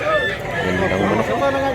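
Rooster crowing amid a noisy cockfight crowd in Mantalungon, Cebu, its call rising over dense, continuous babble of many voices throughout.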